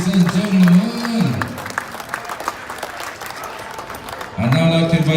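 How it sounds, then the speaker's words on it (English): Applause for the Fiji Sevens rugby captain at a Marist 7s tournament presentation, a loud burst of crowd clapping at the start that drops off, then swells again near the end. "Big round of applause for the Fiji Sevens captain, ladies and gentlemen."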